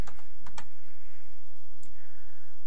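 Computer keyboard keys pressed for a Control Z undo: a quick cluster of sharp clicks at the start, then another pair of taps near the end over a low steady hum.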